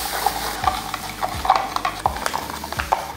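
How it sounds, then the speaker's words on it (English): Cinestill C41 film developer chemistry is stirred into water in a pitcher, making a close series of rhythmic swishes and clinks that repeat about every half second. "I'm going to stir while I'm adding the content of part A."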